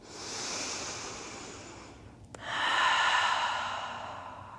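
Deep breathing during a morning yoga stretch: a long soft exhale, a short pause, then a fuller, louder breath, close and with no talk.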